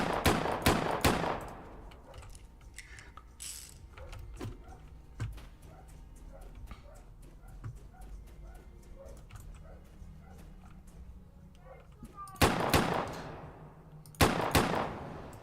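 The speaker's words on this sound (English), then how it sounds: "I love that, it's just such a rapid firing weapon." A rapid-firing weapon shooting bears in the video game YLands, with loud bursts of shots at the start and again near the end and a quieter stretch of softer impacts and animal sounds between them.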